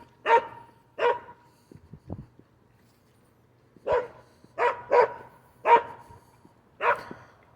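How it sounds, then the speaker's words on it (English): Dogs bark behind a fence in short separate bursts, two quick barks, a pause with faint whimpering, then a quicker run of four or five barks at moderate distance, with no talk. "those were dogs"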